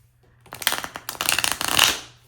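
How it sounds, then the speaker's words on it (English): Tarot cards being shuffled by hand, a close two-second burst of rapid riffling flutters, stopping briefly partway before a second run. "Such a bad shuffle."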